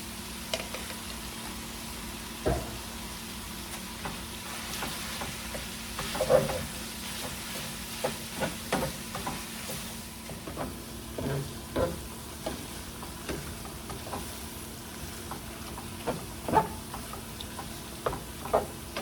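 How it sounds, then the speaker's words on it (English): Onions frying together with sausage in a pot for a copycat Zuppa Toscana soup, giving a steady close sizzle with scattered crackles and stirring clacks throughout, no talking. "we are going to put our onions in there. We're going to cook them onions right up with that sausage"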